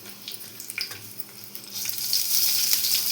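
Dried red chillies frying in hot oil in a pan, a close sizzle and crackle with a few stirring clatters, growing louder and denser in the last second, with no voices.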